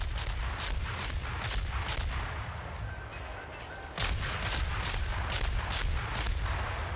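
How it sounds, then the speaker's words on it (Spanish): Cannon fire from the warship Dresden in World of Warships, rapid repeated loud booming salvos in quick succession, briefly pausing before resuming another volley, no talking. "le disparamos con todo"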